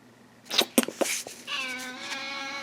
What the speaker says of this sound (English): And here's a cat.